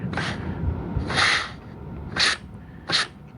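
Four short bursts of compressed air leaking past an unsealed nozzle tip, each a sharp sputtering puff separated by brief pauses, close and moderately loud.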